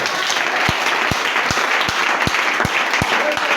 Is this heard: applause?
yes